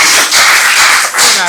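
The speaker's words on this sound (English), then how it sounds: "Clap for the new bestie" Bursts of clapping from a game show audience for a couple of contestants, sharp and close across a short stretch, with brief dips between flurries.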